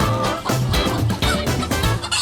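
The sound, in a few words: chicken clucking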